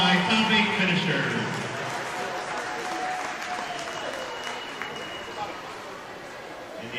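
Applause at a swim meet for the 14-and-under girls 100-yard butterfly top eight finishers, a crowd clapping steadily in a large echoing natatorium under a faint public-address voice and general chatter, gradually thinning out.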